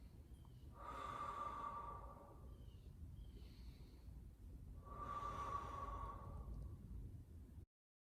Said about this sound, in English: Nice slow inhale, long exhale.